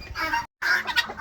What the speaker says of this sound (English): Chickens are coming out, they're getting their water